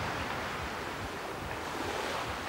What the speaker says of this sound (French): Écoute les vagues.